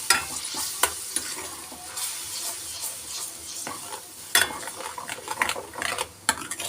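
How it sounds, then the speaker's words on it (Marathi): Onion and tomato puree frying in oil for chole masala, a soft continuous sizzle punctuated by sharp scraping and clattering stirs of a spoon against the pan, close and fairly quiet, no talking. "ही पण आता आपण मस्त तेल सुटेपर्यंत भाजून घेऊया."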